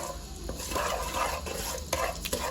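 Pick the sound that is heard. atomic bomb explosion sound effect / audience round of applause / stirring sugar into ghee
stirring sugar into ghee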